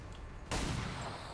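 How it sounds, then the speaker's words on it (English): A single sharp pistol shot fired at a sectoid in the XCOM 2 video game cracks out suddenly after a near-silent moment, leaving a noisy, slowly fading tail. "all I can do with her is move her here and shoot my pistol at the"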